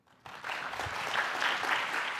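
Applause breaks out from a conference audience at a plenary session on pandemic preparedness, rising sharply after a brief quiet moment and holding as a steady, dense wash of clapping.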